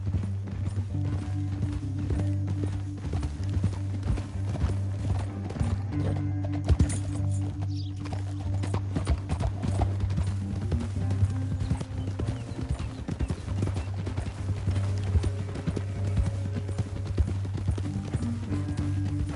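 Rapid, continuous clip-clop of several horses galloping in a video game, steady and fairly loud throughout, with a low droning backdrop and no talking.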